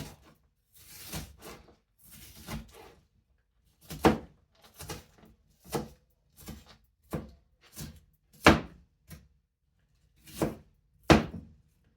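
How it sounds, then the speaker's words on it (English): Irregular knife chops on a cutting board, a dozen or so sharp thuds spaced unevenly, close and fairly quiet with no talking. "then I'm gonna go ahead and dice this onion"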